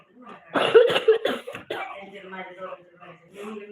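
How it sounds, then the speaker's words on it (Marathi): Several sharp coughs in quick succession, close and fairly loud, followed by quieter throat sounds and soft murmuring. "काय झालं खोकला येतोय"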